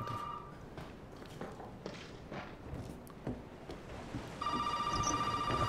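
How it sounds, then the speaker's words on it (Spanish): An old telephone rings inside a house in Resident Evil 7, its electronic trill starting, pausing amid soft footsteps and rustling, then returning louder at the end. "Teléfono, teléfono,"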